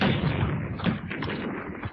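Distant World War I artillery fire makes a dense, rumbling barrage of muffled booms and thuds that rolls on continuously without clear gaps, heavy and dull rather than sharp.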